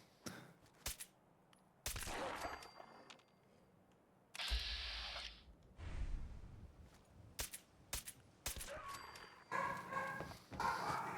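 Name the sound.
dogs barking in the background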